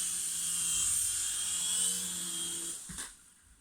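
A remote control toy helicopter flies nearby with a steady high-pitched rotor and motor whine. It stays strong for about three seconds, then drops off abruptly as if touching down, and no one talks.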